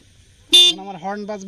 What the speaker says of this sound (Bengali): আমার হর্ন বাজবে